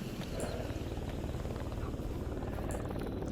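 An attack helicopter flies close by in the video game Stalker Anomaly, its rotor thudding in a loud, steady, rapid pulse throughout.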